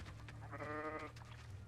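A single goat bleats in the video game Hogwarts Legacy, a nasal, wavering cry lasting about half a second over a low steady background hum.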